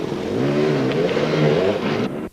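A Gas Gas 250 motorcycle engine at a snow race, droning steadily with a revving, mid-pitched buzz for about two seconds before cutting off abruptly at the end.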